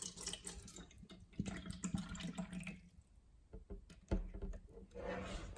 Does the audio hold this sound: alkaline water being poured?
yes